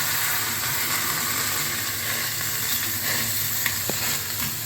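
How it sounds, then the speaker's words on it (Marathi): Cumin seeds sizzling in a hot pan while cooking pumpkin soup for a fasting-day noodle dish, a steady close frying hiss with no talk over it. "त्यात थोडे जिरे टाकू आता हे आपण मिक्सरमधनं बारीक केलेलं लाल भोपळा ते मिसळून टाकू"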